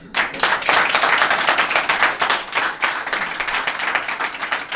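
Audience at a Hindi poetry performance clapping, a burst of dense applause rising quickly and holding in uneven waves for a few seconds.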